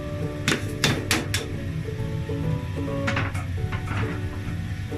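Uncooked rice poured into a pan of fried peanuts, cloves and peppercorns for peas pulao, landing as several sharp clattering bursts over steady background hum.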